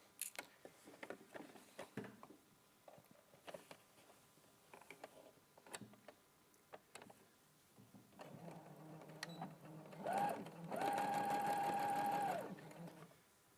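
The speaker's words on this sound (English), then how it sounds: "Okay, so I'll just quickly sew that." A sewing machine stitches a seam with a 1.5 cm seam allowance, running in a short burst near the end after quiet handling and rustling, a close, even mechanical whir.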